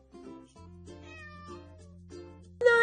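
Cat meowing as a sound effect in a children's story reading, a few drawn-out, wavering mews close up, ending in a sharp louder tone.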